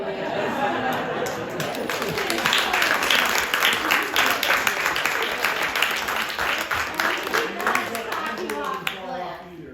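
An audience applauds an actor named Anthony at a question-and-answer session, with dense, sustained clapping filling the room and chatter mixed in throughout.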